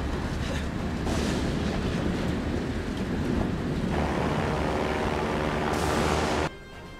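An airplane engine in a Nintendo parachuting game gives a loud, steady whooshing drone like rushing wind, shifting in tone partway through and dropping off sharply near the end.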